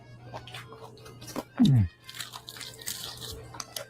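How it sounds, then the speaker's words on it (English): A close, crisp crunch of a bite into crunchy oven-baked chicken, followed by soft chewing and mouth noises with a faint hum in the background. "Okay, you hear that crunch?"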